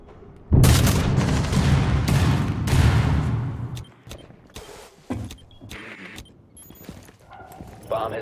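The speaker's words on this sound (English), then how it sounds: "Cluster charge activated." Cluster charge explosions in a video game, a string of loud booming blasts over the first few seconds followed by scattered sharper bangs and thuds, close and forceful.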